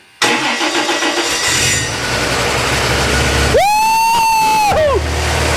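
A GMC 302 inline six, freshly built, cranks with a loud starter whine and fires into a steady running idle, its engine note close and continuous throughout, with a brief rising whine near the end.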